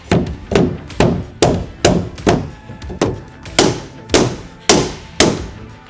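A pull bar is struck repeatedly to knock a floor panel into alignment inside a RAM ProMaster van, producing about a dozen sharp, evenly spaced knocks, close and loud, each with a short ringing decay.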